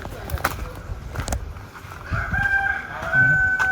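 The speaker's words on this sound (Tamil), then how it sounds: "நாட்டுக்கோழியும் பண்ணுறாங்க" A rooster crows nearby while country-breed and Sonali-breed hens cluck and murmur in the background on a farm, with brief bits of people talking.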